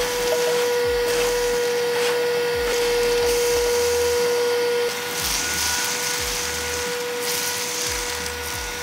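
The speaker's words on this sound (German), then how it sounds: "Also starten wir mal den Staubsauger." A vacuum cleaner sucks gravel and bits of cork out of a terrarium, a loud, steady motor drone with a high whine that runs unbroken from start to end, with no talking.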